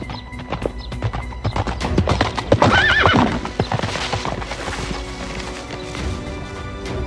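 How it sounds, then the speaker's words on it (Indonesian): A horse with a rider approaches, hooves clip-clopping in a quick steady rhythm that grows louder, and a sharp whinny cuts through midway; no one speaks. "kok ada orang berkuda menuju kemari?"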